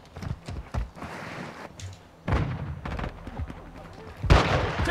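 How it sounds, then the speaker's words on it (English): Heavy gunfire in Modern Warfare II, with bursts of loud shots and booming impacts arriving in several waves, the biggest blast near the end, while players talk over the fighting. "Taking heavy fire."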